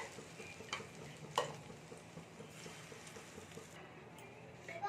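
Food fries in oil with a steady sizzle, broken by occasional stirring scrapes and clinks close up; egg and potato are frying for a Bengali dish.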